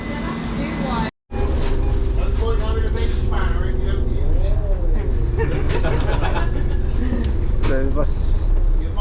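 A bus running on a Cheshire route, its engine droning and rattling steadily inside the cabin with a brief cutout near the start, while people talk over it throughout.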